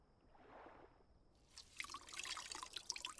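In the Lost Chronicles of Zerzura video game, an object is eased quietly into water aboard a ship at night; after a near-silent start, soft trickling and dripping splashes rise and continue.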